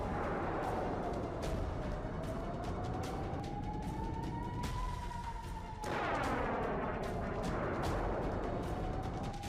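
A rising and falling air-raid siren wails over a rapid series of sharp blasts and booming missile-attack impacts, with dense gunfire-like cracks throughout.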